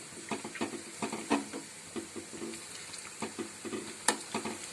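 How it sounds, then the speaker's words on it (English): Protein lollipops sizzle and fry in a pan while being flipped, with steady close sizzling broken by repeated scraping and clinking of the turner against the pan. "So now I'll be flipping them so that they get cooked from other side also."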